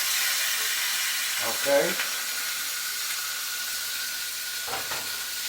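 BBQ short ribs searing in a pan with a cold sear method give a steady broad hiss and sizzle throughout, with a brief word and a couple of soft knocks over it.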